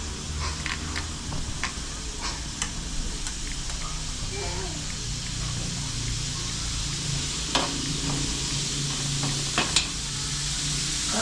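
Pansit noodles stir-fried in a hot pan: a constant sizzle with repeated clattering strokes from the stirring utensil, while people talk nearby.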